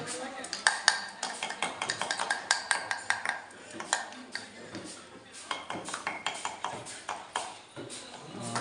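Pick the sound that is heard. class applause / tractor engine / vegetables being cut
vegetables being cut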